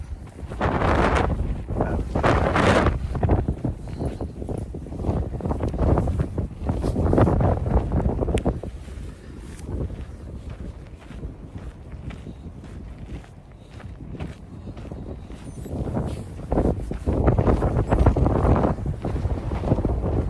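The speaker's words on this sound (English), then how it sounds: "Whew, it is so windy." Strong wind on Montana trails during a run buffets the microphone in loud, continuous roaring gusts that swell and ease over the whole stretch, with no voices.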